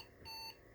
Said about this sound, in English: we have a beep